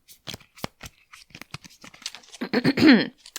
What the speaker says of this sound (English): I'm going to shuffle up the cards here.